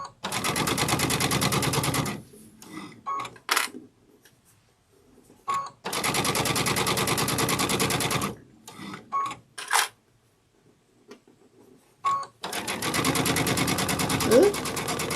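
A sewing machine stitches a seam on a sunflower wall hanging in three long, steady runs of rapid whirring clatter, separated by pauses with faint handling noises, close and loud.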